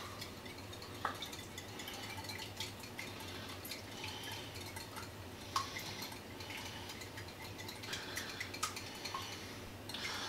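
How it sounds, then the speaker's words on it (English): A whisk scrapes and clinks in a small bowl, lightly beating a mixture for a homemade meat cake: a steady, fairly quiet run of rapid metallic ticks with a few sharper knocks, and no talking. "Whisk this in this little bowl here"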